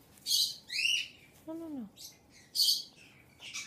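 A pet bird gives several bright chirps and tweets in quick bursts, close by, with a short descending whistle partway through and a human voice speaking briefly in between.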